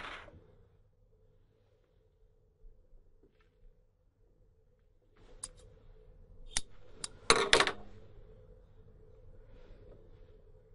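Scissors trimming splinting material during a hand splint fitting for a PIP joint, heard as a few quiet, sharp snips clustered near the middle of an otherwise hushed, close-up moment.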